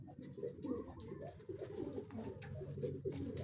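Racing pigeons coo in low, throaty bursts at a training release, several birds close by and overlapping, with a faint background hum and no clear talking.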